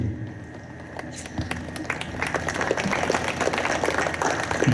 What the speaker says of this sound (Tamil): கைத்தட்டல் மெதுவாக தான் வருது.